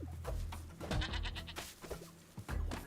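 Sheep bleating in a video game, several wavering bleats that overlap one another and sit close in the mix with other game noise, with no talking.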